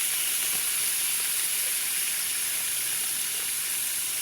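Marinated steak pieces sear in hot oil in a pan, giving a steady, dense sizzling hiss that stays even and close throughout, with no voices.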